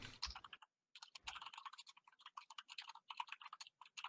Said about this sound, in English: Whose keyboard sounds like a typewriter?